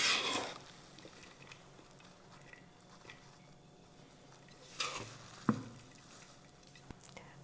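A bulgur tabbouleh salad of greens and chopped vegetables is stirred in a bowl, giving soft, faint rustles and wet squelches with a louder scrape at the start and a few clinks later.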